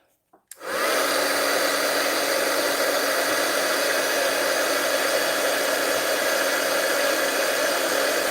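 Heat tool switched on to melt embossing powder on a card, a steady loud blowing hiss and whine that starts abruptly after a brief click and runs unbroken and close.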